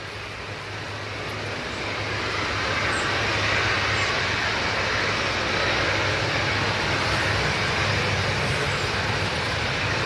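A Ryanair airliner flies past at Manchester Airport. Its engine roar swells over the first couple of seconds, then holds as a loud, steady wash with a low hum underneath, and no one speaks.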